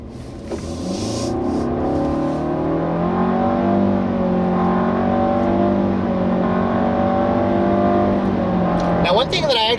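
A 2016 Nissan Altima 2.5SV with a CVT revs steadily as it accelerates, the engine drone rising and dipping in stepped, gear-like surges, loud and close from inside the car.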